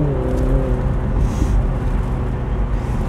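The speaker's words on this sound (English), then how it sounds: "with that roof down, we've got some really nice exhaust noise as well" A 2020 BMW Z4 20i roadster with its roof down gives a steady, continuous exhaust and engine drone from inside the car while driving, with a brief higher whir partway through.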